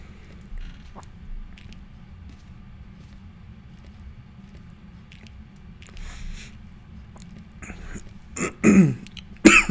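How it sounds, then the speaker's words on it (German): A person coughs near the microphone toward the end, a few harsh bursts rising over a low background hum after a long quiet stretch. "Sorry, ich muss husten."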